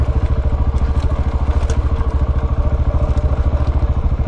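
A KTM 690 Enduro single-cylinder motorcycle engine runs steadily with a rapid, even thumping pulse and clattery mechanical texture, loud and close throughout on a dirt road ride.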